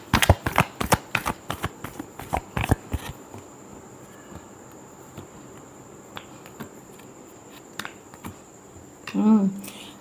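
Tarot cards are shuffled in a quick series of crisp riffling snaps and flutters over the first few seconds, followed by quieter room tone with a few isolated taps and a brief voiced murmur near the end.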